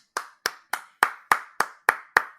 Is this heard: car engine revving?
no